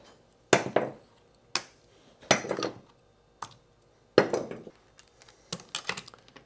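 Plastic tabs are pried and snapped off a Victron Lynx Distributor busbar unit, producing several sharp, close clicks and clattering knocks spaced irregularly, with quiet pauses between them.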